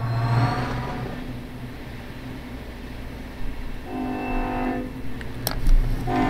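A passing train in the Run8 railroad simulator game, a steady low rumble of rolling wagons with rising engine tones and a brief high squeal near the end, moderately loud with no talking.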